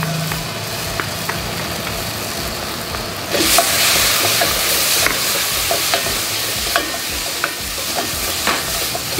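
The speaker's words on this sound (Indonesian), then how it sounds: "Kita tumis sebentar lagi." Spices, ground coriander, pepper and fermented soybean paste stir-fried in a wok for a duck dish: steady close sizzling that swells louder midway, with repeated scraping and clinking spatula strokes throughout.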